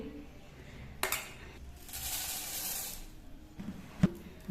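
Dry puffed rice (muri) spilling into a dish at breakfast: a soft, steady rustling pour of grains, close by, with a few small clinks against the bowl around it.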